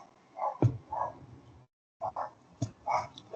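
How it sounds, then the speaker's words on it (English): A roommate's dog barks in a few sharp, close bursts with a brief silent gap between them, fairly loud in an indoor room. "my roommate's dog started barking."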